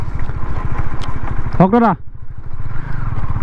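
A KTM Duke 250 motorcycle engine runs close and loud with a steady low throb, and someone speaks briefly partway through.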